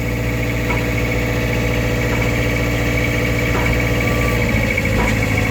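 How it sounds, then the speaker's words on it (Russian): A Mitsubishi MXR35 mini excavator's small diesel engine runs steadily at idle, a constant mechanical drone with a faint rattle. "Без проблем у нас экскаватор отжимается."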